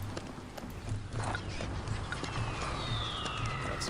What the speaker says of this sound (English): Got some horses going.